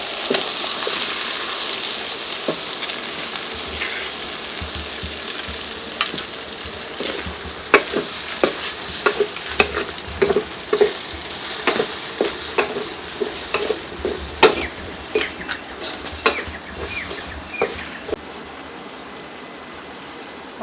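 Potatoes fry in a pan, giving a continuous sizzle with stirring scrapes and clatter that grow denser in the second half. No one speaks.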